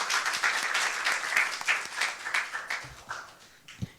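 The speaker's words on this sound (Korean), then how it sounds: "큰 박수 부탁드리겠습니다." Applause from an audience at a Korean public forum on walking culture, a steady wash of many hands clapping that thins out toward the end, with a couple of sharper, louder claps standing out near the close.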